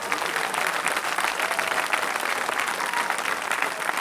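A church congregation claps steadily and loudly for Jesus, dense continuous applause that fills the room for the full length, with some cheering mixed in.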